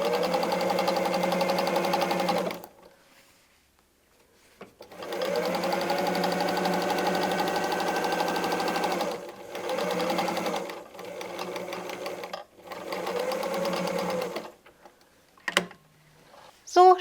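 A sewing machine sews leftover patchwork fabric in several runs of steady, loud mechanical whirring, each a few seconds long and split by short silent pauses, with a few brief clicks near the end.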